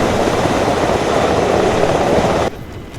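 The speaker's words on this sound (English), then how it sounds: "Get in the helicopter, take your wounded into the helicopter." Helicopter in the video game ArmA 3, a steady loud rotor and turbine roar filling the clip, close and constant, then dropping sharply in level near the end.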